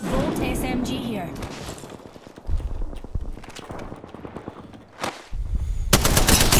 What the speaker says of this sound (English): Volt SMG here.